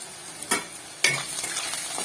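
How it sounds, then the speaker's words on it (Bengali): Onions and chicken with spices fry in a pan, a continuous sizzle punctuated by two sharp stirring scrapes, close and alone. "পেঁয়াজটাকে আবারও একটু ভালো করে ভেজে নেব।"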